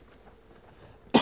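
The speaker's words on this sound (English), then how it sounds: "sorry for that cough" A single short cough from someone with a cold bursts out abruptly at the very end after near silence, close and fairly loud.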